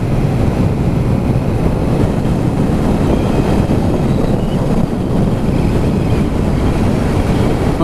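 Loud, constant low rumble of wind buffeting a helmet while riding a BMW F900R motorcycle on country roads, steady and unbroken throughout.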